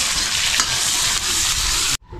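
Chopped onion and green chili frying in a hot oil tempering, a loud continuous sizzle with stirring scrapes that stops abruptly near the end.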